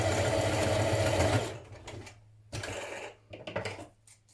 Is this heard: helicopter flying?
no